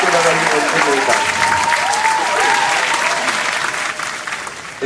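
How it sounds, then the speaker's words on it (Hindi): Audience applause at an annual ceremony, a dense sustained clapping from a crowd that carries on steadily and fades slightly near the end, with a voice faintly heard beneath it. "तो एक बार आप सब अपने लिए तालियां बजाएं"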